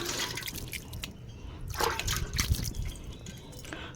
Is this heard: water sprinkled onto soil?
yes